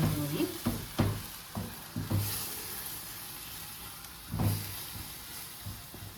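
Coconut milk being stirred into an onion omelette tempered dish in a pan, with several distinct scraping stirs and soft liquid sloshing over a low sizzling hiss, fairly close and quiet, with no talking.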